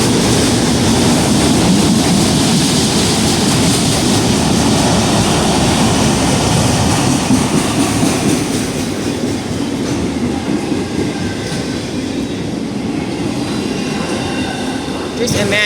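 A loud CSX freight train rumbles past at close range, a dense continuous roar of rolling cars and rail noise that eases slightly toward the end as the last cars go by.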